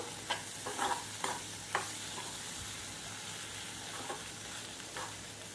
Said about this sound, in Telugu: అంతా బాగా కలుపుదాం కారం పట్టేదాకా